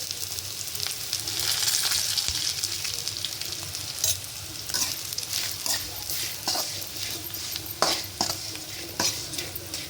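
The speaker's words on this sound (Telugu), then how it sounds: "కాకరకాయలు ఫ్రై అయిపోయినాయి." Bitter gourd stir-frying in a large batch with tempering powder tossed through, a dense continuous sizzle and hiss with frequent scraping and clattering stirs close up.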